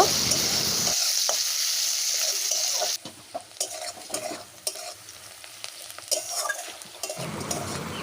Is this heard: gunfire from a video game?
no